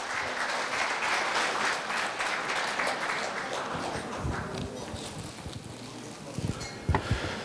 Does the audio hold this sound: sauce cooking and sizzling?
no